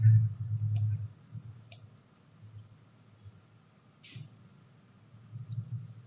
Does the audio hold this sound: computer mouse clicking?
yes